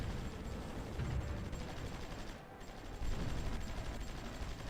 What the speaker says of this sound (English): Okay, there's some artillery and howitzers.